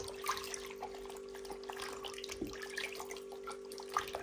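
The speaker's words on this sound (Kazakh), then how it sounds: "Осылай барлық қарынды жуып шығамыз." Steady running water from a tap splashes while horse tripe and intestines are washed by hand in a sink, with small irregular splashes and sloshes throughout, close and fairly quiet.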